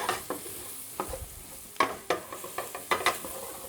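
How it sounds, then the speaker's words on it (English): Flour cooking with vegetables and bacon in a pan, a soft sizzle under repeated scraping and stirring strokes of a utensil, close and irregular with no talking. "we cook it briefly just with those veggies and the bacon"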